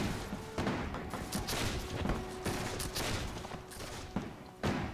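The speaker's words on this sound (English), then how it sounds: "So the guards now opening fire, shooting down the fenders." Volleys of musket-style gunfire from guards in a French Between Empires strategy game, with repeated overlapping bursts of shots cracking across the whole stretch under a steady background of battle noise.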